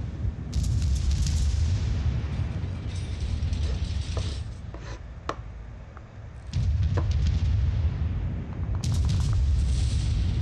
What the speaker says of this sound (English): Alright, I'm gonna start shooting at that guy that's shooting you.